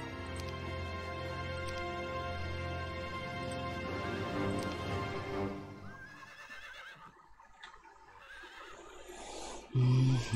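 A horse neighs in Heroes of Might and Magic 3, a long whinny over a sustained musical backdrop that fades toward the end, followed by a short loud thump.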